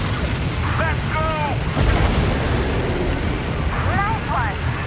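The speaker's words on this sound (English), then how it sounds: "The main cannon is almost ready to be fired again." In the video game Death Stranding 2, a main cannon fires with one heavy, booming explosion midway over a steady rumbling backdrop, while voices speak faintly before and after the blast.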